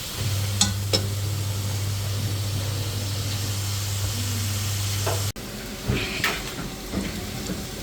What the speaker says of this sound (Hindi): turn by time, step by step जो है वो वेजिटेबल्स फ्राई करते जाएं